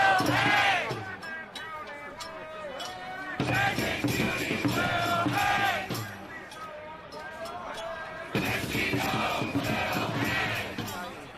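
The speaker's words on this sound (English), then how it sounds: "Large crowds have gathered and are calling for the execution of Kristi Noem." A large crowd gathered in New York chants in loud rhythmic bursts, voices swelling together in repeated phrases with brief gaps between them, heard at a distance in the open.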